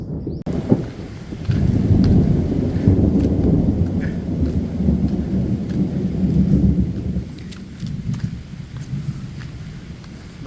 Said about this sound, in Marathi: जोरात विजांचा कडकडाट होतो आहे बापरे आणि आता पाऊस पडायला लागला आहे